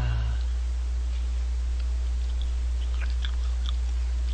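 Chewing and biting into a cheap dairy ice cream candy bar, with soft crunchy bites and faint crackles over a low steady hum, close and quiet, with no talk.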